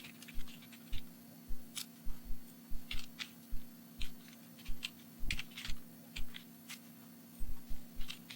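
Someone types code on a computer keyboard, with steady, fairly regular clacking keystrokes close by over a constant low electrical hum, no voices.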